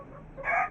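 Hen clucking on a rooftop near chicks, a single short, close cluck in the final half second after faint background noise.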